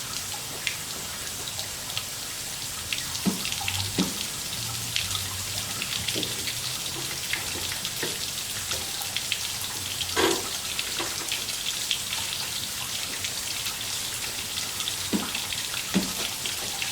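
Water runs out of a 1995 Yamaha WaveRunner jet ski being hooked up for testing, a steady spattering hiss with scattered drips and splashes over seventeen seconds, no voices.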